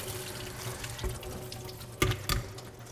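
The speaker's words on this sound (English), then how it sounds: "So I'm going to rinse these really quick and start them on the water." Potatoes rinsed under a running kitchen tap, a steady soft splash of water into the sink with a couple of brief louder splashes near the end; no talking.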